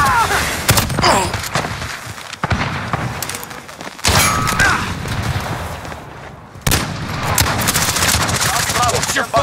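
Repeated bursts of automatic machine-gun fire in a Call of Duty Modern Warfare multiplayer match on the Shipment map, loud and close, broken by brief pauses, with game voice callouts and effects mixed in.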